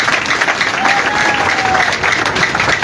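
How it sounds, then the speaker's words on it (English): Supporters at a political rally at the NUP headquarters in Uganda applaud themselves in a loud, dense, continuous wash of clapping and crowd noise, close and sustained throughout. "Please clap for yourselves."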